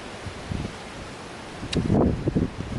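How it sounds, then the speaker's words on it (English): Wind gusting outdoors on a blustery day at a barbecue spot, a steady rushing buffet on the microphone that swells into a louder, rougher gust partway through, with no talking. "It's a windy day. I like the wind, I like it a lot."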